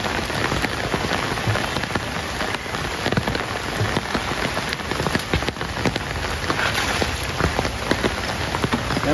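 Heavy rain pours steadily onto a farm, a dense, constant hiss of drops on surfaces lasting throughout with no voices.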